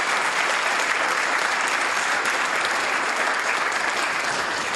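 A crowd at a youth achievement awards ceremony gives a big round of applause, loud and continuous clapping at a constant level throughout, with no voices over it.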